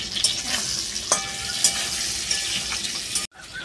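Prawns frying in a pan with a light sprinkle of salt and turmeric give a steady close sizzle, with a few sharp ticks and scrapes of stirring and a brief dropout near the end.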